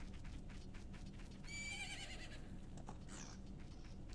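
A horse whinnies once in the Majora's Mask video game, a clear rising-and-falling neigh in the middle of a quiet stretch with soft background ambience.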